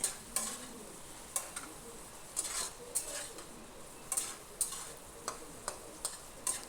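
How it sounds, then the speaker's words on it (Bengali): Potato pieces sizzle in hot oil with turmeric while a utensil stirs them, giving repeated sharp scraping clicks against the pan over a steady low frying hiss, close and fairly quiet. "একটু নাড়াচাড়া করে নিলাম তেলের মধ্যে হলুদটা দিয়ে"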